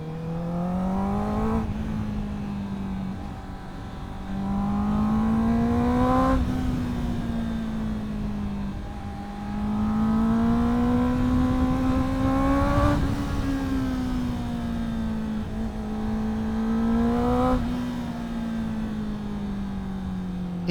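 A motorcycle engine hums steadily while riding, its pitch swelling and easing in repeated slow waves as the bike accelerates and backs off, close and continuous with no talk.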